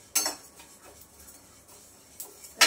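A spoon scrapes a pan a few times while spices dry-roast, making sharp, sparse metallic clinks over a quiet background.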